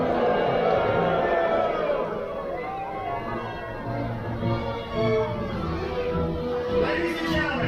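A crowd of cruise ship passengers boos together aboard Royal Caribbean's Ovation of the Seas during an Equator crossing ceremony, a loud, steady mass of voices that swells and dips throughout.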